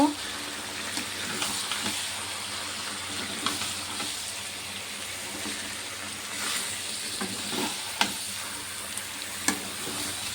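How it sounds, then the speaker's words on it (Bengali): Mutton fries in oily spice paste in a pan while it is stirred and browned, making a steady hiss and crackle with occasional scrapes and knocks of the spoon, and a voice speaks faintly at times. "এবারে এই খাসির মাংসটা দিয়ে দেবো। ভালো করে কষে নেব।"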